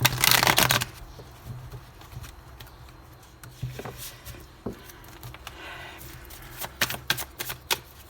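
Light Seer tarot deck being shuffled by hand: a loud riffle at the start, then scattered soft card taps and slides continuing close by, with no voices.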